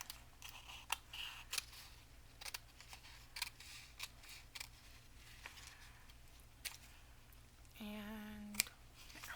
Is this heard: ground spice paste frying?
no